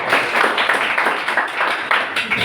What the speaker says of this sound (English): Let's give Dr. Ken a round of applause.